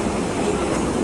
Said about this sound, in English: Bienvenidos a bordo de Disneyland Railroad.